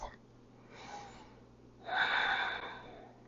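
Deep breaths during a lower-body hip and hamstring stretch, a soft inhale followed by a longer, louder breathy exhale, close and quiet.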